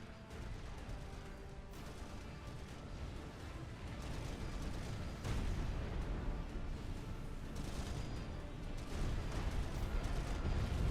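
Summit class battleship cannons fire in the real-time strategy game Supreme Commander: Forged Alliance, a dense, continuous rumble of artillery booms and crashes, steady and moderately loud with no talk over it.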